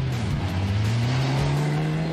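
A race car competing in a German endurance championship round at the Nürburgring roars with a steady, loud engine note that rises slowly in pitch as it accelerates, continuous and close, with no voices.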